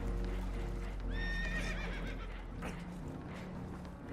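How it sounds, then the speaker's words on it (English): Spooked horses aboard a vessel taking on water whinny loudly with a rising, wavering call over a heavy, constant rumble of rushing water and engine noise, with hoof clatter mixed in. "Horses are spooked, and we're taking on water."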